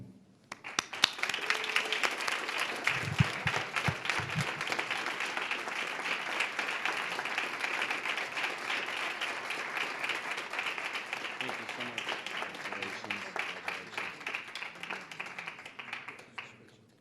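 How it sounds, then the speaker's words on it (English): Sustained applause fills a school board meeting, a dense, even wash of many hands clapping for over fifteen seconds at moderate distance, with a few voices faintly underneath. "So one more round of applause."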